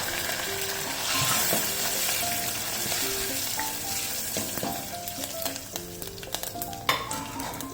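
Curry leaves and asafoetida sizzle in a hot tempering for rasam, a loud dense frying hiss with stirring and a few sharp utensil clinks near the end.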